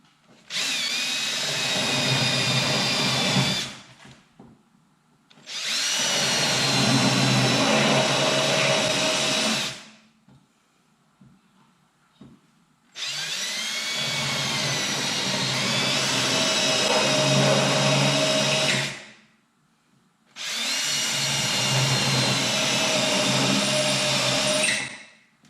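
Power tools drilling and cutting into the body of a Subaru Forester, with four long, loud, steady whining runs of several seconds each, separated by short quiet gaps, close by and with no talk.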